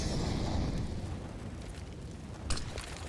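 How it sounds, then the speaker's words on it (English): Grenade blasts on the B bomb site of the Vertigo map in a Counter-Strike match, a dense rumbling roar of explosions that fades slightly, with a sharper pop near the end. "Grenades streaming into the B bomb site."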